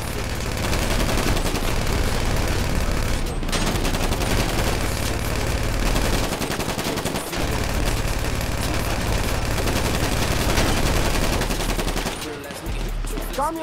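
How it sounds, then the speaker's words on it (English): Rapid, dense gunfire in Grand Theft Auto V, sustained bursts of automatic shots crackling almost without pause, loud and close, with some voices mixed in and a brief lull near the end. "Hold still while I shoot your bitch ass."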